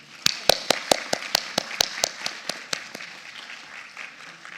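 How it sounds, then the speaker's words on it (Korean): A conference audience at an academic policy session gives a round of applause that begins as a series of sharp, evenly spaced claps, then dissolves into a softer, blended patter that fades out. "세션을 힘찬 박수로 시작하겠습니다"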